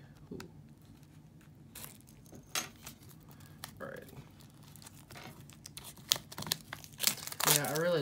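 A deluxe CD package is opened with small keys, giving scattered taps and scrapes that build into loud crinkling and tearing of plastic wrap near the end, with a voice talking over parts of it.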